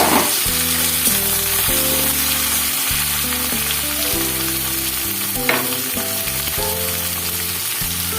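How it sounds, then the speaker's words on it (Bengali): Potatoes and eggplant sizzle steadily in a pan of hot oil with fried onions, seasoned with salt and turmeric; a loud, constant frying hiss runs throughout, with no talk. "এখন একটু লবণ আর হলুদটা দিয়ে আগে ভেজে নেব একটু"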